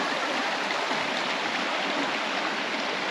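River water in a Maasai area of Kenya rushes past in a steady, broad hiss, continuous and close, with no talk over it.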